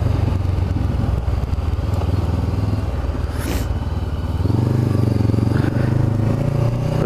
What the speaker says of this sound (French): on vient de récupérer la moto, ça fait du bien, on roule tranquillou